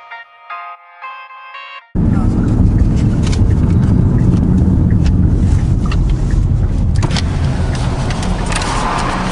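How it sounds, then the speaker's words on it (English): Ferrari 488 GTB V8 engine idling steadily after a front-end collision, a loud, constant rumble that starts abruptly after about two seconds of faint tonal chiming, holding even and close for the rest. "Engine runs great."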